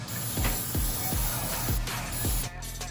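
Spray paint hisses steadily and loudly from close by onto a Warhammer 40k Warhound Titan model, with a few soft knocks and shifts under the spray before it cuts off near the end.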